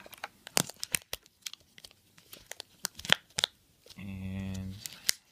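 Flush Force toy five-pack packaging being unwrapped: crinkling plastic and tearing paper in close, irregular crackles and rips, ending in a longer tearing stretch, with speech in places.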